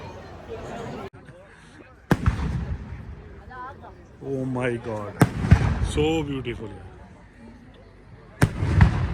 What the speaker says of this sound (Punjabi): ਪਟਾਕੇ ਚੱਲਣ ਲੱਗੇ ਆ ਇੱਥੇ